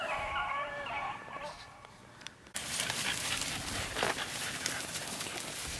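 Hunting dogs wearing shock collars chase a rabbit in Missouri: a dog whines and yelps briefly at first, then a loud, steady rush of movement and rustling carries on to the end.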